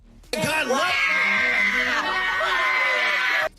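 A woman screams loudly and continuously at a preacher, her voice wailing and groaning in long, wavering cries that hold for over three seconds before cutting off abruptly.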